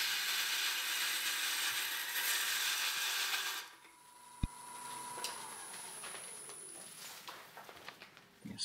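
A lathe gouge makes a bevel cut on a honey locust burl bowl with a steady, rough scraping rasp of fairly even loudness. The cut stops abruptly partway through, leaving a quiet tail with a sharp knock and a faint ringing hum.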